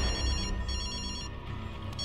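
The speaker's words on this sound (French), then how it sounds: "Téléphone de McCraven, j'écoute" A telephone rings in a tense crime-drama scene, its electronic ringtone repeating in short bursts over a steady low background hum, fairly loud and with no talking over it.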